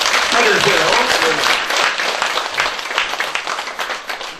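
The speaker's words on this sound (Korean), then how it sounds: "또 박수로 받으세요" An audience at a Korean Buddhist temple book-launch service bursts into sustained, dense applause that stays loud and then gradually thins out.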